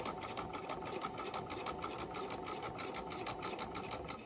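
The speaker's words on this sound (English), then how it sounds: "I'm sewing through all layers of the fabric" A sewing machine stitching a flat felled seam through all layers of fabric, a fast, steady mechanical rattle running continuously at close range.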